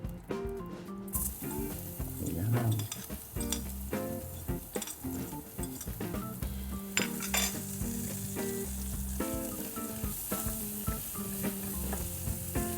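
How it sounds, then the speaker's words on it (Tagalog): Garlic sizzles steadily in hot oil in a pan, a dense close crackling hiss with occasional scrapes and clinks of a utensil stirring, no talking. "Ilagay na natin itong bawang."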